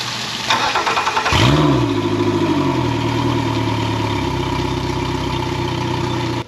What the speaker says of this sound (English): fire up the engine, and get it warmed up so we can drain the oil